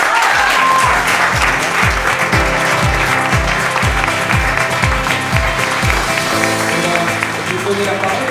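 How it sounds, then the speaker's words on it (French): An audience at a hackathon event in La Réunion applauds, the dense, steady clapping filling the whole stretch over a thumping rhythmic low beat. "Donc encore bravo, on peut les applaudir."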